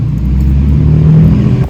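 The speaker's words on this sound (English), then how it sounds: "let's get a first startup on the Borla Stinger mufflers here." Car idling right after a cold startup on Borla Stinger mufflers fitted to a Kooks exhaust, a steady deep exhaust rumble that holds loud and close throughout without any voices.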